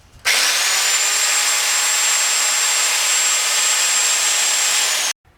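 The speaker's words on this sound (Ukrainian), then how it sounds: "Тепер перфоратор." A rotary hammer drill starts abruptly and runs at a constant high whine for about five seconds, loud and close on a building site, then cuts off sharply.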